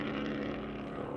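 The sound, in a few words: TC America race car engine running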